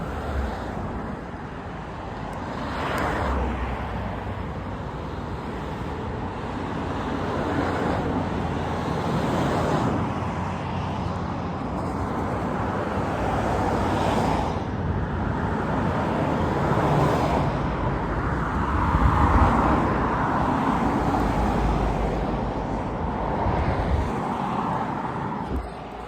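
Cars pass one after another on a town road, a continuous rolling roadway rumble with swelling whooshes as vehicles go by nearby, plus some wind buffeting and no talk.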